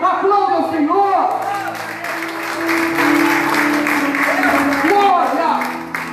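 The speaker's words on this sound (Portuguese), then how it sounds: "Aplauda ao Senhor." A church congregation applauds in praise during a worship service: sustained, dense clapping that swells and stays loud throughout, with voices, shouts and tonal sounds mixed in.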